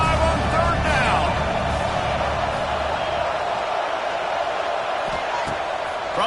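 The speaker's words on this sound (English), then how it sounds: "The Buckeye crowd alive on 3rd down." Ohio State Buckeyes football stadium crowd on third down against the Washington Huskies, a dense, steady roar of cheering that stays loud throughout, with a commentator's voice running over it.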